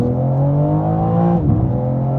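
A 2022 BMW M4 Competition xDrive convertible in sport mode launching from 0 to 60: a loud, close engine roar climbing steadily in pitch, with a brief dip at a quick gear shift before pulling hard again, no voices.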